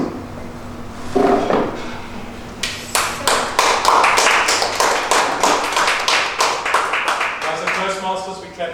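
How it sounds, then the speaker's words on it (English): Applause at a Toastmasters meeting rises after a few sharp taps into a burst of crisp hand claps from a small group, then thins out as a voice speaks over the end. "As a Toastmasters, we clap for everything."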